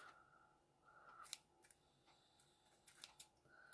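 Scissors snip through ribbon wrapped several times around a hand into loops, giving a few quiet, crisp cutting clicks spread across a near-silent stretch.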